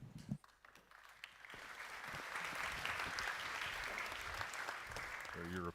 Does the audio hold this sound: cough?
no